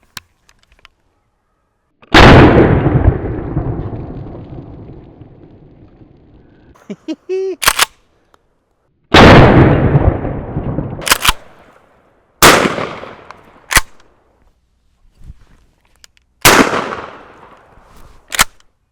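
A shotgun fires 2.5-inch Top Gun target loads outdoors, four loud blasts spaced a few seconds apart, each followed by a fading echo, with sharp clicks of the action between shots.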